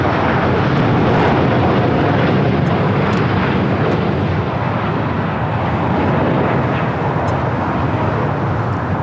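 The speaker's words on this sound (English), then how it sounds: "This is Latam Airlines Flight 8087 taking off to Sao Paulo, Brazil on a 787-9 Dreamliner" LATAM Airlines Boeing 787-9 Dreamliner taking off from LAX, a broad, loud, continuous jet roar holding steady the whole time with no speech over it.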